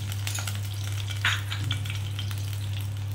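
Oil sizzling and crackling in a hot wok, several spoons of white cooking oil hitting the heated pan with a soft hiss and scattered pops over a steady low hum.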